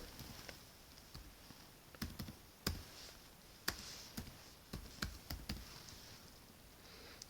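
Typing on a computer keyboard, entering a name into a card-holder field of a banking app form: sparse, irregular key taps with short pauses, close and fairly quiet, with no voices.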